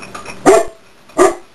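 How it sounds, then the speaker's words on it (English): A pet dog barks twice, close and loud, with a short pause between the two sharp woofs. "that's my dog"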